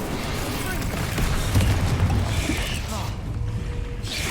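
Incendio fire spell cast in Hogwarts Legacy, a dense roaring whoosh of flame with rumbling low end and creaking crackle, sustained for several seconds before tapering.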